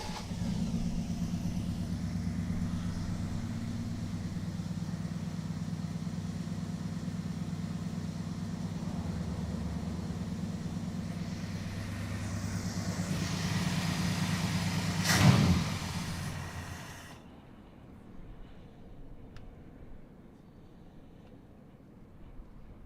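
The engine of the Crew Cab Charger runs steadily at fast idle after a fast idle screw adjustment, with a close, loud, even drone. It surges briefly near the end, then cuts to a low, quiet idle.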